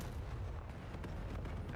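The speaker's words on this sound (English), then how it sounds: "Guns, bullets, and grenades." Gunfire and grenade blasts from a Call of Duty hardpoint fight in a pro league tournament match, a dense, continuous low rumble of overlapping shots and explosions without clear breaks.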